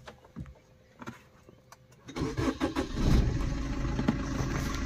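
A 2016 Maruti Swift VDI diesel engine cranks and fires after a few quiet seconds, then settles into a loud, steady diesel clatter close by.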